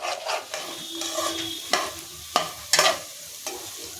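Egg masala being stirred and fried in a pan with oil, with soft sizzling under repeated scraping and clinking stirring strokes at an uneven rhythm, close by and without speech.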